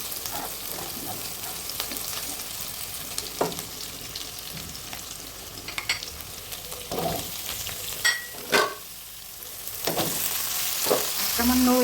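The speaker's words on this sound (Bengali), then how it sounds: "আমি এখন একটা করে সবজিগুলো দিয়ে দেবো। হালকা একটু ব্রাউন কালার করে নেব প্রথমে।" Vegetables browning in a hot pan for a vegetable khichuri sizzle steadily up close, with intermittent sharper crackles and stirring clatters, a few louder bursts, and a brief dip near the end.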